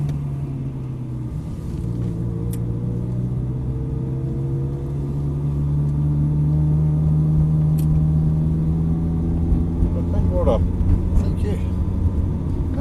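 A Ferrari rolls slowly into a pit lane in second gear, its engine a steady low rumble that rises slightly partway through, heard close from inside the car with a voice speaking over it.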